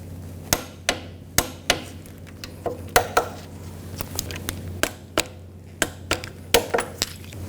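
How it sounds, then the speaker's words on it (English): Wrench clicks and metallic taps while torquing rear hub bearing bolts on a 2000-2006 BMW X5, a dozen or so sharp close knocks in an irregular rhythm over a low steady hum in a garage. "Now we're going to torque these bolts to 49 foot-pounds."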